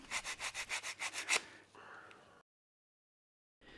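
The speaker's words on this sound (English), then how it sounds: "Then sand those surfaces too." Sandpaper rubs a wooden nail illusion in about ten quick, even back-and-forth strokes, close and crisp, followed by a softer scrape and then a brief silence before faint rubbing resumes.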